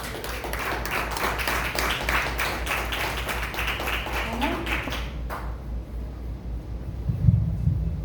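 A congregation at a church service claps together in praise of Christ, a steady run of dense hand claps that stops abruptly, leaving a quiet room with a brief low thump near the end.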